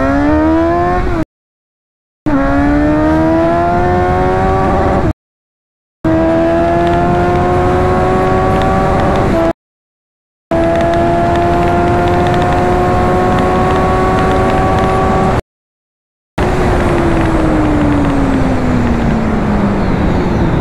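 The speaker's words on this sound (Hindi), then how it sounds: "तो अभी मैं फर्स्ट गियर पे हूँ," A Suzuki GSX S750 motorcycle revs hard in first gear, its close, loud engine note climbing steadily in pitch through repeated pulls, broken by brief silent gaps, with no speech.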